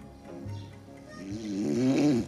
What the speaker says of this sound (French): un ronflement gras et morveux